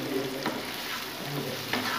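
Masala being stirred into softened, cooked-down tomatoes in a pan, a steady close sizzle with a few soft scraping strokes of the spoon, no talking.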